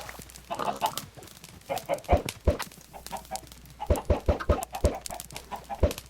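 Chickens on a video game farm cluck in scattered bursts, with a few sharp, louder clucks standing out against a softer background of hens.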